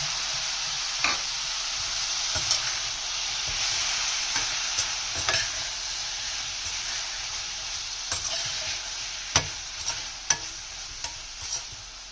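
Chopped tomatoes stirred into frying okra for a Sindhi do pyaza bhindi sizzle in a low, constant hiss, with regular spatula scrapes and clicks against the pan growing sharper toward the end, close and unaccompanied by speech.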